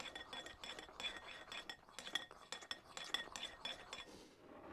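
Ingredients for Dutch corn bread are being stirred together in a bowl, with a rapid series of utensil clinks and scrapes against the bowl, close and fairly quiet.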